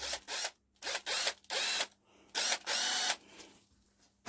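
A drill runs in several short bursts, spinning a bottle brush cleaning engine ports with a harsh whirring scrub, separated by brief pauses.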